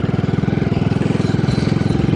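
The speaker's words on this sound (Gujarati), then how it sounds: "આ વાડીમાં ટ્રેક્ટર હાલે છે." A tractor engine runs steadily in a farm field, a loud, close, continuous low chugging with a fast regular pulse and no speech over it.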